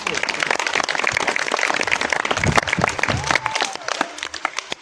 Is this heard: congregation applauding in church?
yes